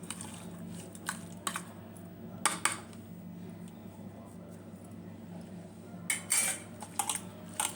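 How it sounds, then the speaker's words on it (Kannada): Flattened rice (poha) with salt being smashed in a bowl, heard as scattered soft taps and clinks of utensil on dish in small clusters, fairly quiet against a low background hum. "ಈಗ ಅವಲಕ್ಕಿನ ಸ್ಮ್ಯಾಶ್ ಮಾಡಬೇಕು"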